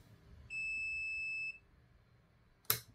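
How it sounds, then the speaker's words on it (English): A SUNLU filament connector, a small electronic device, gives a single clear steady electronic beep lasting about a second when it finishes, followed by a brief clack, in a quiet room. "hopefully it beeps when it's finished"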